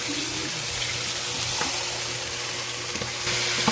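Shrimp sizzle loudly in a hot pan as broth is poured in, giving a constant hissing fry with faint stirring clinks and small pops throughout.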